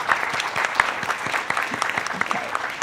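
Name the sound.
audience applause at an art show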